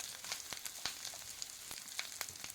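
Ground spices such as turmeric, coriander and chili powder sizzle as they are sautéed in a pan, giving a steady close crackle with scattered sharp pops throughout and no voices.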